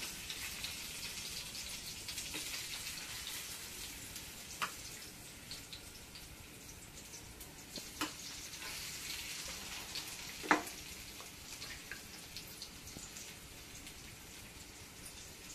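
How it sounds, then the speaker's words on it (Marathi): Thapi vadi, flat gram-flour cakes, frying in hot oil, giving a steady broad crackling sizzle with scattered small pops throughout, no voices. "आता आपण हे केलेल्या वड्या त्याच्यात टाकूया."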